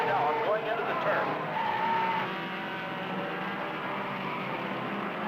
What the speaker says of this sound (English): with tires screeching, they move around the airport turn once more